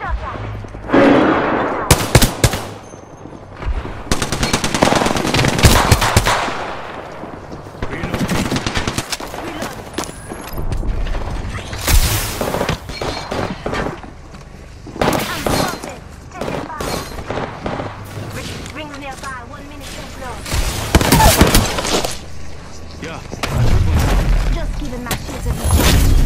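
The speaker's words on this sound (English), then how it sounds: "Listen up, I'm getting shot at!" Gunfire in a video game, with dense automatic bursts and single shots that keep going in irregular waves, some close and sharp, over background game noise and occasional voices.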